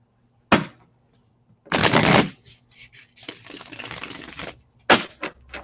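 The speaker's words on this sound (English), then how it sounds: "And I'll do one more shuffle." Bursts of riffled tarot card shuffling, several quick flutters and snaps separated by short pauses, close and clear.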